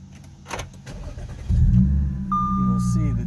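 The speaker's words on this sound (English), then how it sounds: "I'll show you what I mean when you start the car" A 2010 Audi S4 with a six-speed gearbox starts up close by. A short crank catches into a loud, steady idle, and an alert chime comes in over it. A person talks before the engine fires.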